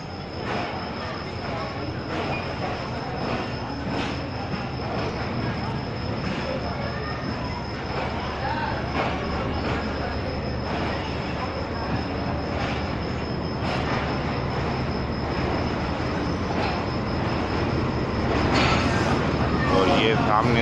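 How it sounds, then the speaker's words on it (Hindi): The Jaffar Express pulls into Rohri railway station in the early morning with a loud, steady rumble and a high mechanical whine, swelling slightly toward the end, while a voice talks over it. "और ये सामने से जाफर एक्सप्रेस आ गई है।"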